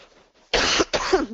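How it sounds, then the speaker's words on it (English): A woman with a cold coughs twice in quick, harsh bursts, close and loud, after a moment of near silence. "I think she just sneezed and coughed"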